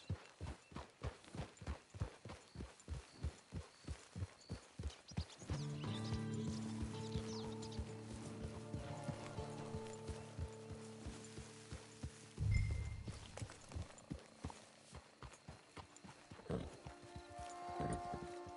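Horse hooves clip-clop at an even walking pace in Red Dead Redemption 2 Online, then fade behind a sustained musical tone. The steps come back at the end with a few mechanical clicks.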